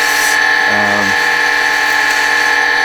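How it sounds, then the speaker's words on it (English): A lathe spins steadily during sanding, producing a constant motor whine with a droning undertone, briefly joined by a short voice near the start. "That's one thing you got to be really careful with on a lathe when you're sanding."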